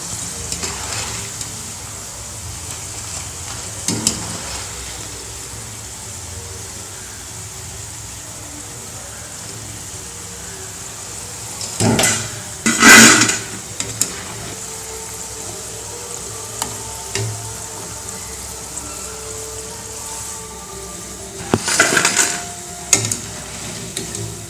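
Ragi pakoda with onion deep-frying in hot oil, a steady low bubbling sizzle running throughout, broken by a few brief louder clatters of a utensil against the pan.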